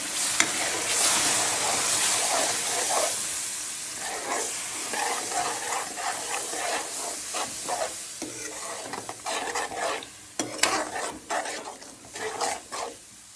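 Water poured onto turmeric, chili, coriander and cumin in a hot pan for a goat (khasi) mutton curry, giving a loud, steady sizzle with scraping stir strokes throughout and sharper bursts near the end.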